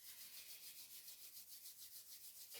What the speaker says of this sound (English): rubbing the hands together to create a heat in the hands